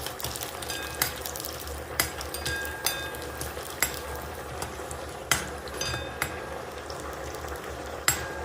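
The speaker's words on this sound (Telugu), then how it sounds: "ఇప్పుడు ఇందులోనే వెల్లుల్లిని కూడా వేసుకొని బాగా ఫ్రై చేసుకోవాలి" Garlic frying in oil in a pan while being stirred for a sweet potato bharta, a steady low sizzle punctuated by sharp spoon clicks and scrapes every second or so, close by.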